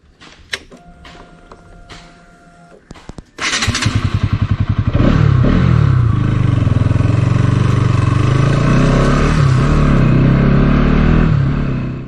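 A Bajaj Pulsar NS200 BS6, a single-cylinder four-stroke liquid-cooled fuel-injected motorcycle, starts with a few thumps, then its engine roars up loudly and holds a strong, steady drone while riding.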